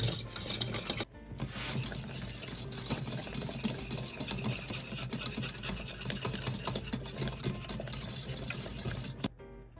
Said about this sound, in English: Even though I'm trying to whisk it down, it's still boiling a little bit.